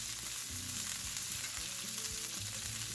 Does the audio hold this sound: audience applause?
no